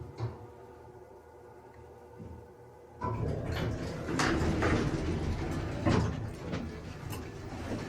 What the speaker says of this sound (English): We're gonna end on the second floor so that way you can hear that motor again.